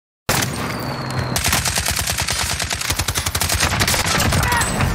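Sustained automatic gunfire in Call of Duty Warzone, rapid bursts shooting out a truck's back window, loud and close with dense rhythmic shots throughout and a brief voice underneath.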